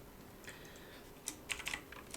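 Quick taps on a computer keyboard while code is typed, a short burst of close clicks that grows denser toward the end.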